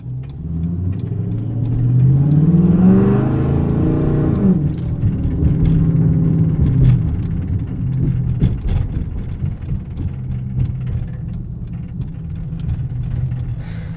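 A 2010 Dodge Charger ute with a Hemi V8 revs up, its deep engine note rising and falling in pitch, then settling into a loud, rumbling idle.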